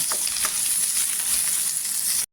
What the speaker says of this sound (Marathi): इथे मी चिरून घेतलेले 2 कांदे आहेत ते टाकायचे